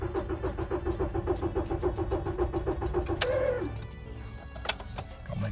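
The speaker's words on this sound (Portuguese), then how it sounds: "vamos dar a partida no carro para ver se vai funcionar" A car with a newly replaced fuel pump cranks with rapid rhythmic starter churning for several seconds, then catches and fires up, settling into a lower steady idle up close.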